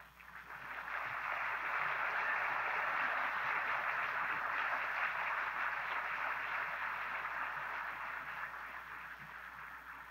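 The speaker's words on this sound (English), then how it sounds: "Thank you for that applause." Sustained, dense applause from the audience at the Illinois Holocaust Museum opening, a steady wash of many hands clapping that rises quickly and holds at full strength for about ten seconds.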